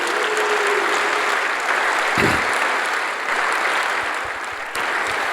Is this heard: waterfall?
no